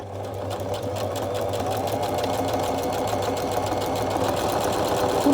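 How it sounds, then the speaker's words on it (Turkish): A sewing machine stitches a buttonhole in one automatic step, a steady fast mechanical whir with rapid needle ticking, loud and close, running continuously without a break. "İğnemi aşağıya doğru indiriyorum. İliğimi açmaya başlıyorum."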